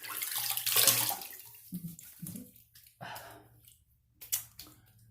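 Water splashing and running in a sink as a face is rinsed after a wet shave with an Edwin Jagger DE89 razor, in several close, uneven bursts with quiet gaps between.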